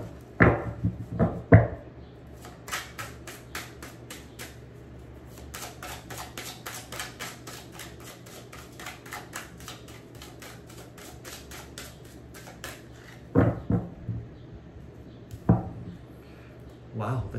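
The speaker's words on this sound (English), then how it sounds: "One more shuffle." Tarot cards are riffled and shuffled in a long run of quick, crisp flutters, with a few soft taps and knocks at the start and end.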